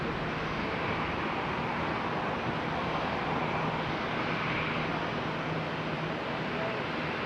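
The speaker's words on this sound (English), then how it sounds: "I had one aircraft cross the runway down there." A fixed-wing aircraft at Charlotte Douglas International Airport produces a steady, broadband roar of distant jet engine noise that holds constant throughout with no clear peaks.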